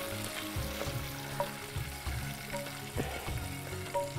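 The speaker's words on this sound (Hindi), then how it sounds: "इसी तरीके से हम बाकी के भी फ्राई कर लेंगे" Beans frying in hot oil in a pan: a steady, dense sizzle and crackle runs throughout at moderate loudness, with occasional soft stirring knocks and no voices.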